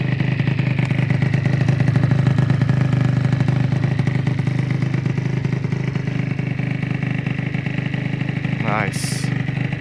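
An Aprilia SR 50 scooter engine idles steadily after an engine rebuild and an exhaust overhaul, a continuous low putter with people talking over it and a brief high squeal near the end.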